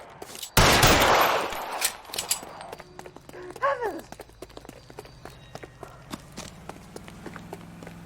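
Gunshots in the detective video game L.A. Noire: one loud blast early, followed by scattered sharp shots and footsteps, with a voice shouting partway through.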